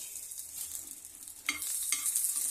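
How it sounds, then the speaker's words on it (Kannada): Mustard seeds and curry leaves spluttering in hot oil with a dried red chilli, a steady close sizzle with a couple of sharp crackling pops partway through and no speech. "ಚಟಪಟ ಚಟಪಟ ಅಂತೈತಿ ಸಾಸಿವೆ ಕರಿಬೇವು ಒಂದು ಒಣಮೆಣಸಿನ್ಕಾಯಿ"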